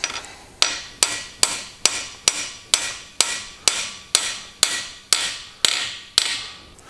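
Steady hammer blows on the engine cover of a 4.3L LV3 V6, about a dozen evenly spaced strikes ringing out one after another, loud and close with no talking.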